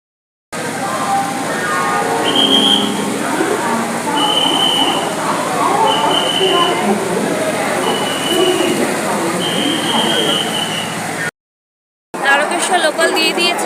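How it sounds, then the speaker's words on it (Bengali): Busy platform ambience at Howrah railway station, with a steady crowd roar, distant train rumble and repeated short electronic tones, all fairly loud and continuous before cutting out briefly near the end. "আমি এখন হাওড়া স্টেশনে আছি।"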